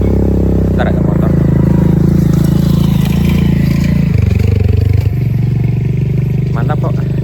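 A motorcycle rolls along a mountain hiking trail near the base camp, its engine droning steadily and close throughout under a person's talk, with a shift in engine tone partway through.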